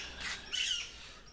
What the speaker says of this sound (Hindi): तोते चिल्ला रहे हैं।